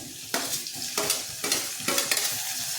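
Tomato goes into a sizzling cabbage stir-fry, bursts of hot-oil crackle rising in repeated waves as the spatula stirs, close and without talking.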